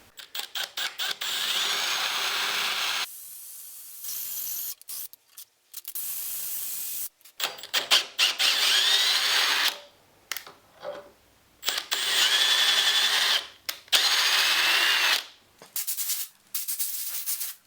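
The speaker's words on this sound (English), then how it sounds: "In this case it's actually easier just to drill it out and re-tap it." A power drill whines in repeated bursts of a few seconds each, drilling out a bolt on a Honda CG125 motorcycle, separated by short pauses, close and fairly loud.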